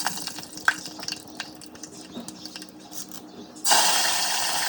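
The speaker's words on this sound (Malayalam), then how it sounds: "ഇനി എണ്ണ ചൂടാവുമ്പോൾ ദേ കടുക് പൊട്ടിക്കണം" Mustard seeds hit hot oil while chicken thoran is cooked: scattered small pops and crackles, then a sudden loud, steady sizzle that fills the rest of the clip, close and without voices.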